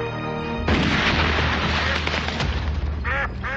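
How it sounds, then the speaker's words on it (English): A custom-made gun fires in the 1993 film trailer for In the Line of Fire: one sudden, loud blast that rumbles for a couple of seconds, then a brief sharper sound near the end. "What the hell kind of gun is that?"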